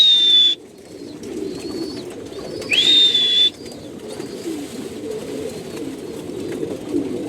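Racing pigeons, a red checker pair kept in a loft, call over steady low background noise, with two brief, brighter calls near the start and around three seconds; no talking.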